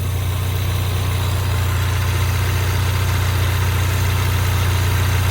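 A 2016 Ford EcoBoost engine idles steadily and close by, a constant low hum and rumble with no talk over it.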